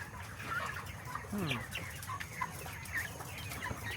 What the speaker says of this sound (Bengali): মুরগি এখানে এই যে আছে